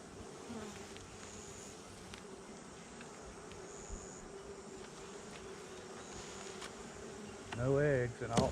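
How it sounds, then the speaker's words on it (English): Honey bees buzz around a hive during a calm hive inspection, a steady, low, continuous hum that stays even throughout with a brief louder burst near the end. "these bees are calm as calm bees can be."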